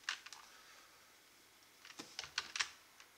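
Someone types code on a computer keyboard, giving quiet, close key clicks. A couple of taps come first, then a quick cluster of keystrokes after a short pause.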